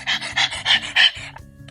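A voice imitates a dog panting: five quick, breathy huffs in a steady rhythm, close and fairly loud, ending with a brief exhale.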